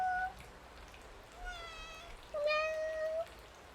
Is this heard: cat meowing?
yes